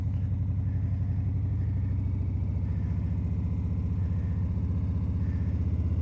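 A motorcycle engine idles and revs slightly as a beginner rider eases out the clutch and pulls away, a steady low throbbing rumble heard close and alone.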